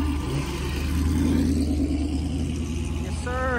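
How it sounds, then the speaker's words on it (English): A car engine rumbles and revs at a park meet turned street takeover, a steady mid-pitched roar with rising pitch near the end, fairly close and continuous. "Revving, Revving!"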